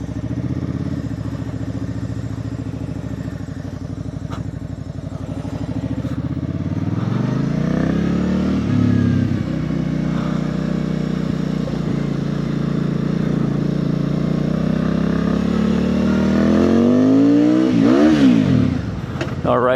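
A Benda 707 motorcycle pulls away in first gear, its loud engine rising in pitch, settling, then revving hard again near the end, close and alone.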